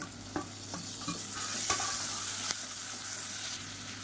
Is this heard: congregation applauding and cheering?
no